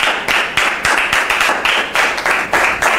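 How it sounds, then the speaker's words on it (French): A studio audience on a French television talk show claps to welcome a guest onto the set, steady rhythmic applause in several bursts, fairly loud and close, with no talking over it. "on peut donc la recevoir sous vos applaudissements"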